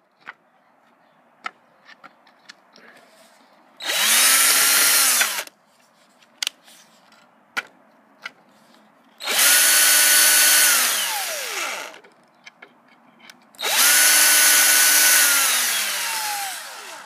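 A power drill runs in three separate bursts of a few seconds each, whining up and winding down as it backs bolts out of an old radial arm saw, with small clicks and clanks of handling in the pauses.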